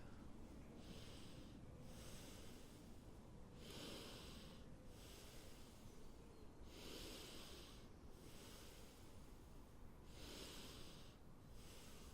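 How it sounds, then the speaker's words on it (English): Bhastrika bellows breathing in a meditation session: forceful, hissing breaths pumped through the nose in repeated bursts with short pauses between, close and fairly quiet. "you can begin to make some sound as if you're like the bellows blowing on a fire"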